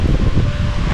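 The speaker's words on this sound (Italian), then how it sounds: "Un po' di vento oggi" Gusty outdoor wind buffets the microphone in a loud, steady low rumble with rustling texture throughout, on a changeable day just after rain.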